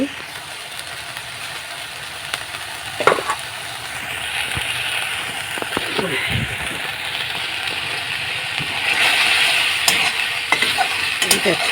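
A vegetable curry is sautéed in a pan with a splash of water, stirred with scraping strokes over a continuous bubbling sizzle that grows louder toward the end. It is heard close up, with a few sharp knocks along the way.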